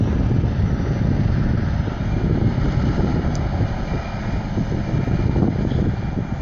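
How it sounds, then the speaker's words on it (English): Steady wind blows across an open hay field on a warm day, a continuous low rumbling roar with buffeting against the microphone and no voices. "it's not too hot and it's windy, but not too windy like it was the other day"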